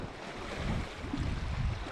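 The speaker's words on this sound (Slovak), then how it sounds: "A tu dole máme hneď more." Sea waves washing against the rocky Croatian coastline below a clifftop viewpoint, a steady, fairly faint rushing wash with wind buffeting the microphone and no talk.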